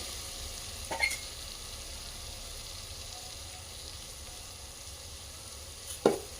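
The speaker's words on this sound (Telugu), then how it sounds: "రైస్ వేసుకుంటున్నా. చూడండి రైస్ వేసుకొని మంచిగా కలుపుకోవాలి." Rice goes into a pan of frying vegetables for vegetable pulao under a steady, moderate sizzle, with two brief scraping clatters of stirring.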